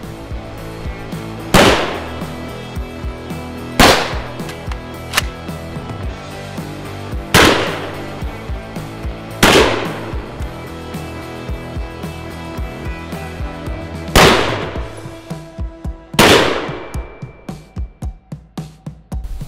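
Six loud, sharp rifle shots ring out at a body armor test, 7.62x39 rounds and 7.62x51 from a SCAR 17S. They are spaced about two seconds apart, each with a booming echo tail. Rapid rattling clicks follow near the end.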